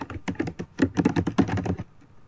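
Rapid clicks from typing on a computer keyboard while setting up a software program, fast uneven keystrokes in short bursts, close and fairly clear with no talking, ending abruptly.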